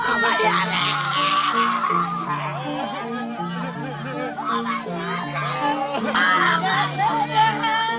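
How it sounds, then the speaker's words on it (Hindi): Several people wailing and crying out in distress, loud overlapping anguished voices with a low sustained tone underneath. "आज उनके परिवार में सिर्फ रोने और चीखने की आवाज गूंज रही है।"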